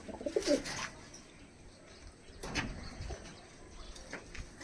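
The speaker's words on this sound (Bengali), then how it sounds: "এই যে কবুতরগুলো আমি দেখাচ্ছি সব বসে আছে" Oman Teddy pigeons coo softly in a loft, a few low cooing calls and some rustling over a faint steady background hum, close but quiet.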